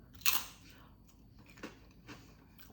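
A sharp crunch of a bite into a single-ingredient quinoa chip, followed by a few quieter chewing crunches, close and alone.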